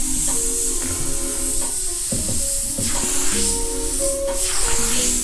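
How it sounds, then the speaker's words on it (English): Airbrush spraying paint onto a T-shirt for graffiti-style art, a steady continuous hiss running throughout with tonal background sounds layered over it. "airbrushing is a little different than spray cans"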